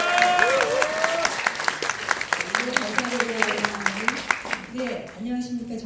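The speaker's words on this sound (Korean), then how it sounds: "격려와 응원의 박수" An audience at a public debate forum claps for the incoming second-session host, a steady patter of hands under a sustained voice or tone, with a talking voice entering near the end as the clapping thins.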